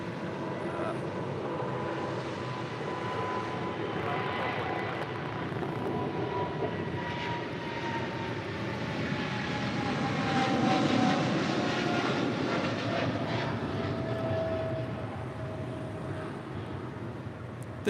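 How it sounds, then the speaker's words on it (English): A Boeing 777 freighter takes off at LAX, its jet engines a broad, distant roar that swells gradually toward the middle and then eases, with a faint whining tone drifting over the rumble. "This 777 freighter is taking off to Cincinnati."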